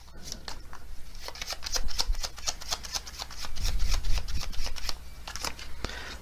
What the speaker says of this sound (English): Some more oracle cards.